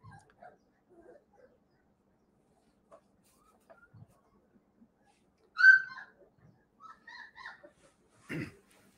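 Two-week-old Great Pyrenees puppies let out faint, scattered whimpers and squeaks in a quiet room, with a few short, slightly louder cries near the end.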